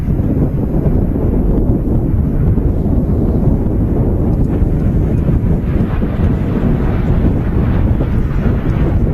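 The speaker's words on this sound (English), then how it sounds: "Aer Lingus regional ATR out, heading back to Dublin" Aer Lingus Regional ATR turboprop departing Manchester Airport for Dublin, a loud, steady broadband roar that holds evenly throughout, rough and gusty like wind buffeting the microphone.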